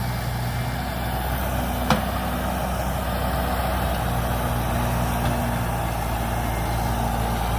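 A log drag machine hauling two logs in tow during timber work, a steady low engine drone rumbling continuously at moderate distance, with a brief clank near the start and no talk.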